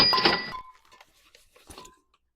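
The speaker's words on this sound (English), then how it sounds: "Just hear metal clinking kind of" Metal cans of butane fuel knock against each other in a storage unit, giving a few light metallic clinks with a short ringing tone after a burst of rustling handling noise, close and quiet.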